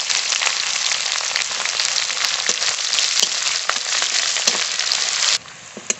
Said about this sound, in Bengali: পেঁয়াজটা খুব ভালো করে ভেজে নিয়েছি।